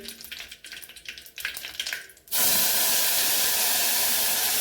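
Spice paste hits hot tempering oil with asafoetida and curry leaves for a kadhi, setting off a sudden loud, sustained sizzle that follows a stretch of quieter frying and scraping.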